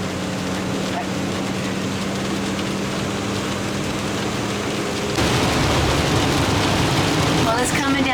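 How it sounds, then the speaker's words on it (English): Heavy rain pours onto the roof of a box truck camper, making a dense, steady roar that swells noticeably louder about midway through. "And it sure is raining."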